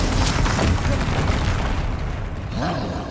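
Confringo fire-spell blasts in the Hogwarts Legacy video game, a dense, loud rumbling boom that fills the whole clip, with a second burst flaring near the end under game noise and a voice.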